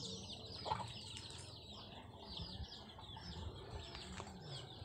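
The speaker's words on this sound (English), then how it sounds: "Like those chicken in there." Chickens cluck and chirp softly in a steady chorus, with a brief flutter of wings partway through, all at moderate distance with no talking.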